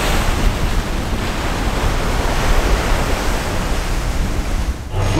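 Ocean waves and strong wind in the stormy North Pacific roar as a loud, dense, continuous wash of surf and gusting air, close to the microphone with no voices.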